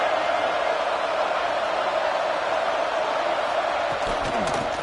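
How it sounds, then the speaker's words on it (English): Dense, steady roar of a packed football stadium crowd, loud and continuous throughout, with no distinct voices standing out from the wash of noise. "listen to this crowd noise. This stadium is vibrating"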